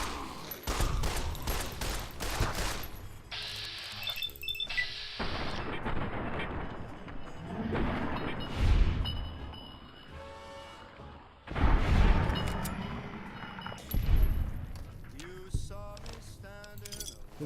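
Gunfire in the video game Fallout: New Vegas: a dense string of shots and bursts with heavier booming impacts, with brief talk in between.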